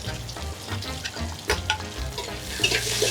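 Chopped onion drops into hot oil flavored with rosemary and thyme, setting off a close, steady crackling sizzle with brief louder pops and stirring scrapes throughout.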